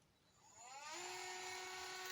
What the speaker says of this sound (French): Donc là ce que je vais faire, je vais percer maintenant.